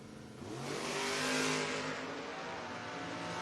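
Drag race launch of a 1980 Camaro and a Ford Maverick at a footbrake race, loud engine roar rising to a peak and then holding a strong steady drone, with no talking.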